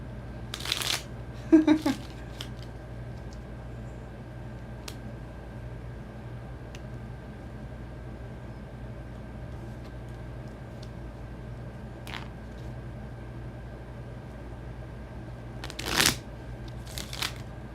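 Two short bursts of card shuffling, a quick riffle near the start and another near the end, separated by a long stretch of quiet hum.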